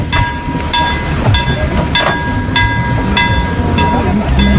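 A train rolls past near the Palavi railway crossing in Puttalam, Sri Lanka, its wheels clacking loudly and close in a regular rhythm about every half second over a continuous rumble.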